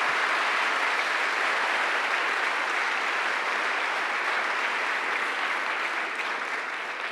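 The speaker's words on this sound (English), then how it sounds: "And let's give Leandro another applause, please." Applause from a large audience after a keynote at a Python developer conference, a dense, even wash of clapping that holds steady for several seconds and eases slightly at the end.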